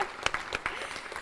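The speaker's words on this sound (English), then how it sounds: "that's a round of applause right there" An audience at a teacher-of-the-year awards event claps in a brief burst of steady, moderately loud applause.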